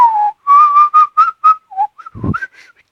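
Someone whistles a short, wavering series of notes, some clear and some breathy, with a puff of air blown partway through.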